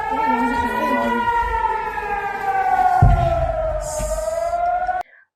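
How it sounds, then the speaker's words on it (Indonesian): An air raid siren wails across Haifa, loud and sustained with a slowly falling pitch, a short thud midway and a hiss near the end before it cuts off abruptly. "Pada Selasa 11 Juni 2024, sirene dibunyikan di kota Haifa untuk pertama kalinya sejak dimulainya agresi di jalur Gaza."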